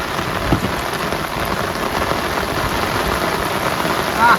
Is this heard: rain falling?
yes